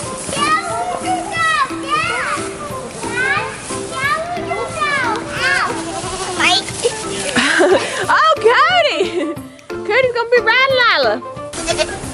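Goats bleat repeatedly, several overlapping wavering calls close by, mixed with a person calling out over steady farmyard background.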